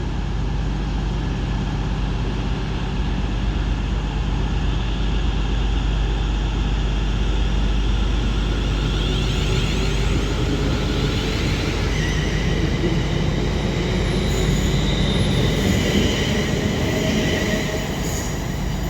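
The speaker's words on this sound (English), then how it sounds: "Now departing is going to be the 1200 London North Western Railway service to Crewe from Stafford" A London Northwestern Railway Class 350 electric passenger train rumbles steadily at close range departing Stoke-on-Trent station, its motor and wheel noise rising gradually with faint squealing tones as it pulls away.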